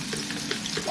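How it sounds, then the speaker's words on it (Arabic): Onions frying in very hot oil in a pan, a steady dense sizzle with faint stirring that holds at an even level throughout, with no voices. "هنحمر البصل كده اهو، ننزل البصل كله ونحمر البصل"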